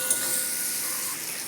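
Minced meat with half a spoon of salt fries in a pan for bottle gourd keema, a dense, even hiss of sizzling that holds steady throughout.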